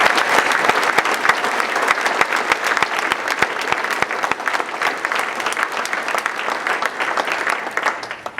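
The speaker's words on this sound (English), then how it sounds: "So let's have a round of applause" Steady, dense applause from a crowd at a 75th birthday celebration held at NJIT, loud and continuous for several seconds with many overlapping hand claps and no talking over it.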